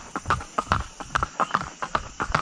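Paso horse hooves clip-clop steadily during a training session, a brisk, even rhythm of distinct close hoof strikes on firm ground, with no voices over them.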